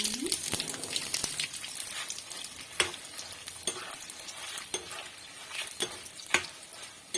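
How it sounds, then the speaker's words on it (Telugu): Steady sizzling and crackling of mustard seeds, fenugreek and urad dal frying in hot oil, loud and close, with scattered sharp pops and utensil clinks throughout. "ఇవన్నీ పోపుకు వేయించుకోవాలి."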